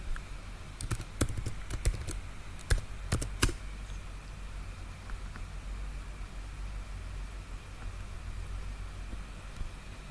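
A short burst of keystrokes clicks on a computer keyboard, a quick run of taps early on, then only a low steady hum remains.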